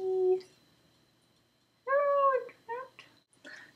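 A house cat meows several times up close, with one short mew first, then a drawn-out call and a few quicker follow-up meows, in an otherwise quiet room.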